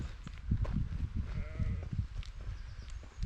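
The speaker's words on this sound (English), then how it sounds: "There's some sheep making some crazy noise over here today" Sheep bleating in hilly Scottish countryside, a wavering cry near the middle of a roughly three-second stretch over steady outdoor wind and rumble, with a few fainter calls around it.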